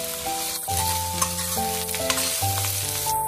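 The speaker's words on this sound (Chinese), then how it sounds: "炒香之后再将沥干水分的牛腩倒进来，将香料和牛腩翻炒均匀" Drained beef brisket is stir-fried with spices in a wok, giving a loud, steady sizzle with scraping tosses, while melodic background music plays throughout.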